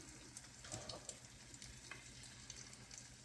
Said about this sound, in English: I'm just going to drop these right on here into this grease that is hot